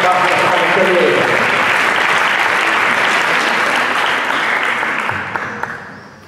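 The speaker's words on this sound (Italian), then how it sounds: "Federico Pierantoni, un altro applauso a Fabiano Magione per il ruolo di ringraziamento per questa pa" Concert audience applause for a big band performance, a loud dense wash of clapping that holds steady and then tapers off into a few scattered claps at the end.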